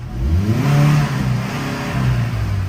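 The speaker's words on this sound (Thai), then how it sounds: "เหยียบเบิ้ล" Close-up roar of a Tata CNG truck engine as the accelerator is blipped, the revs swelling up, holding, dipping and rising again before easing back, with no voices.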